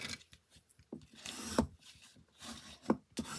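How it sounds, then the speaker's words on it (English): A bone folder burnishes a folded paper card, making a few short, close scraping and rubbing strokes with sharp knocks between them. "I'm going to give it a really good burnishing"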